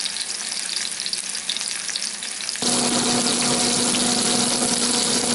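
Pork chops frying over medium heat in a cast iron pan: a steady sizzle that suddenly grows louder and denser midway, with a constant low hum beneath, close and continuous.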